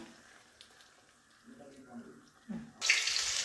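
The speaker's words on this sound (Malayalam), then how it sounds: "ഇതിനകത്തോട്ട് വെള്ളം കൂടെ ഒഴിക്കുക" Water poured into a mixer jar for chutney in a home kitchen: faint murmurs at first, then a sudden bright, splashing pour near the end, close and loud.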